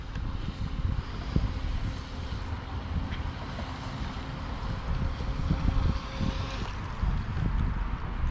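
Proboat Jet Jam RC boat running at full throttle on water, a steady motor whine heard at a distance beneath heavy wind buffeting the microphone and a low, rough rumble.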